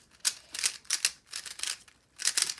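A speed cube is turned quickly by hand in several rapid bursts of crisp plastic clicking separated by short pauses, close and fairly quiet.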